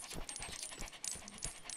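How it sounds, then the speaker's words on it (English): Gnomes in the Lego Harry Potter video game at the Burrow make dog-like panting sounds, a quiet run of rapid breathy huffs repeating steadily with no talking. "I don't know why they sound like panting dogs"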